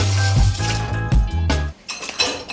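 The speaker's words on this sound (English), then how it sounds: "All right, loaded up the dishwasher." Dishes and cutlery clink and clatter while a dishwasher is loaded, a steady run of close, loud ceramic knocks and metallic chinks that stops briefly, then resumes with lighter clinks.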